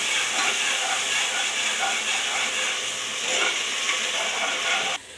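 Ground masala paste frying and being stirred in hot oil for veg pulao, a steady close sizzle and hiss lasting throughout with faint stirring scrapes, dropping off abruptly at the very end.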